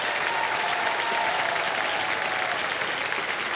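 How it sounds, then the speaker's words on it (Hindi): Studio audience on a televised quiz show bursts into loud, dense, sustained applause for a contestant reaching the hot seat, a continuous wash of many hands with no talk. "आइए बहुत बड़ा तालियां बज जाए इनके लिए"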